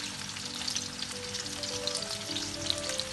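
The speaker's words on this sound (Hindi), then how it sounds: "प्याज को मैं गोल्डन ब्राउन करूंगी हल्का सा" Sliced onions sizzle in hot oil in a preheated pan, a steady crackling hiss with scattered pops, close and continuous.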